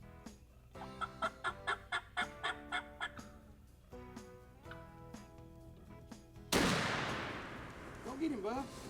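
A single loud shotgun blast on a Mississippi turkey hunt cracks out and rolls away, following a run of rhythmic turkey gobbles and clucks from nearby birds.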